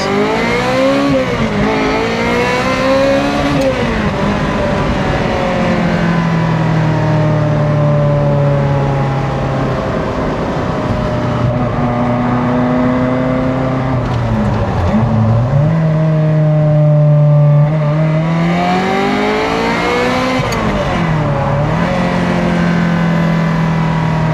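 Ferrari F355 Challenge clone with a Tubi exhaust, its engine revved repeatedly in long rising and falling sweeps, loud and close with a sharp, raspy exhaust note and no talking.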